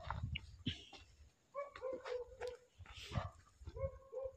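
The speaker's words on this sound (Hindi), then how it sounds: "कोई भी कुत्ता अभी तक चुप नहीं हुआ, लगातार भौंक रहा है" Several dogs bark repeatedly outdoors at night in an irregular run of sharp yelps and whines, some close and some farther off, with brief gaps between bursts.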